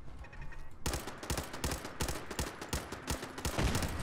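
An automated turret in Fallout 4 lets off a rapid burst of loud gunfire that starts abruptly and goes on as a dense, close fusillade of shots.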